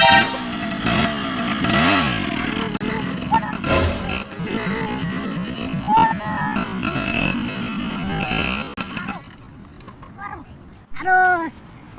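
Motorcycle engine revving roughly up close, with clattering and speech heard over it, before dropping away into near silence and brief voices.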